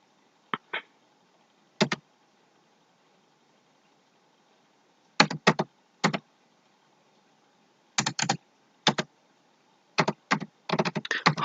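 A name being typed into an MS Word document on a computer keyboard, with short scattered bursts of clicky keystrokes separated by silent pauses and a quick flurry at the end, close and clear.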